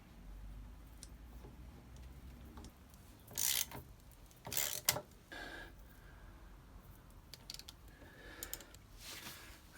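Chain riveting tool being cranked to press a rivet through a ZX9R motorcycle chain: quiet metallic clicks and ratcheting creaks with a couple of louder bursts of grinding effort, no talk.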